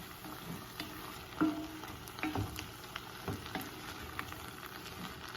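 Minced jarred garlic frying in a pan with vegetables, giving a low, steady sizzle with a few soft stirring knocks, moderately faint and close.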